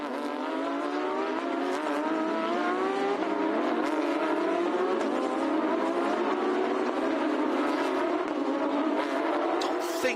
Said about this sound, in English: So the cars on their formation lap now.